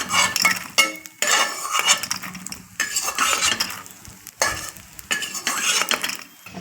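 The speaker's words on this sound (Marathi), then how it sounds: "हे आता मी फुललेला डिंक काढून घेत आहे।" Edible gum fries in ghee while a metal spoon stirs and lifts the puffed pieces out, with bursts of scraping and clinking against the pan over a soft sizzle.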